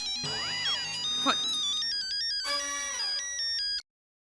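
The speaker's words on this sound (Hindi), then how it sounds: "कुटकुटिया का फोन है।" A telephone ringtone plays as a bright electronic melody of stepping and sliding tones, loud and close, then stops abruptly near the end, with a voice briefly audible underneath.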